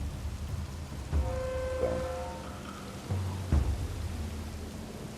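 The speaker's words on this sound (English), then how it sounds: "Oh, and it's raining." Rain falls in the survival video game Colonize as a steady soft wash, with a few low rumbling thuds and a brief tonal chime partway through, and a voice speaks a single word.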